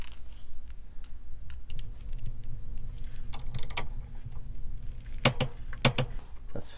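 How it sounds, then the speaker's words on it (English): A torque wrench tightens down on custom 3D printed vise jaw clamps, with soft mechanical handling and ratcheting in a quiet room, then two sharp, close clicks near the end; no one talks. "take a torque wrench and start applying torque"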